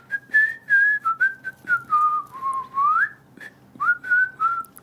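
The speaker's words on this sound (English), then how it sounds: "So you were whistling after you had your go as well?" A man whistles aimlessly with no tune, a string of short sliding and wavering notes in quick bursts, close and clear over faint room noise.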